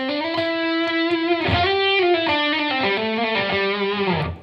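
Electric guitar played through a Strymon BigSky reverb pedal set very light, a melodic lead line of sustained, slightly distorted notes with only a faint wash of reverb tail.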